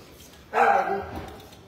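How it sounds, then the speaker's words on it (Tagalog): Pet dogs at a home in the Philippines, a corgi among them, give a short burst of barking at moderate distance. It lasts about a second, with faint talk and room noise around it. "Ito yung mga aso ko, alaga dito"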